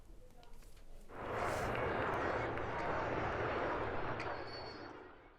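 A Blue Angels military jet roars in after about a second during a Fleet Week air show, a loud broadband rush that holds steady and then slowly fades.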